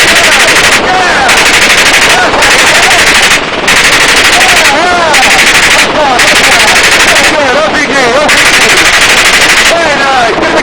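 A gunship helicopter's machine gun firing at a range target in Las Vegas, very loud close rapid bursts separated by brief gaps, with voices talking over the fire.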